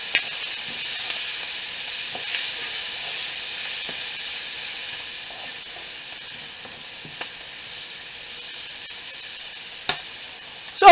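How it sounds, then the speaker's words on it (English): Onions softening gently in a pan with pork and flour give a steady, soft broadband sizzle with faint occasional ticks and a brief clatter near the end. "we're not really browning the onions, we're just going to let them soften"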